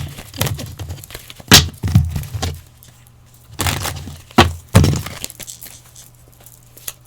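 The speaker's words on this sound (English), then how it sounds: "I'm being guided to shuffle" Tarot cards being shuffled by hand, giving several short bursts of crisp riffling and flicking, close and fairly quiet, with pauses between bursts.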